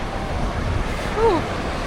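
Steady gusting wind roars at the seaside in Vietnam with surf noise underneath, broad and continuous, with a brief faint tonal squeak partway through.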